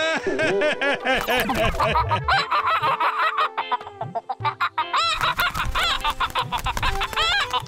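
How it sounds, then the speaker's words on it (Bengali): A cartoon chicken in an animated folk-tale episode clucks and crows loudly and close up in rapid, repeated bursts, with a bit of voice mixed in. "এ কেমন মুরগি? এ তো উট পাখির মতো বড়।"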